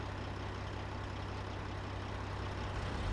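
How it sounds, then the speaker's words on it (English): A combine harvester in a farming simulator game runs with a steady, low diesel engine drone and idle rumble, unchanging throughout and swelling slightly at the end. "I guess I should start up the combine"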